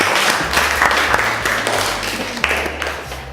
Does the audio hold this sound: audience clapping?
yes